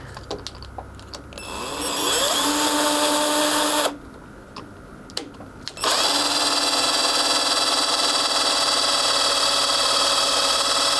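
A loud power drill whines steadily while drilling into a filter housing, pauses briefly with a few faint clicks, then starts again and runs continuously at high pitch.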